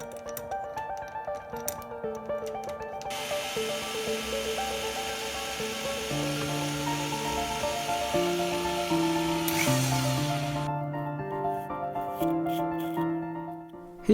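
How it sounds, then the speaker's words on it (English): A power drill bores a hole through the center of a sanded brass pendant part, giving a steady whirring grind beneath background music, with a brief louder burst near the end. "After sanding the finish of the brass part to a more acceptable state, I prepared to drill a hole right through the center."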